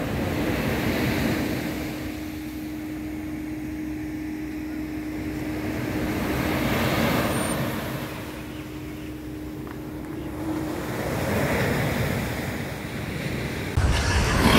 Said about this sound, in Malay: Takut dengan ombak.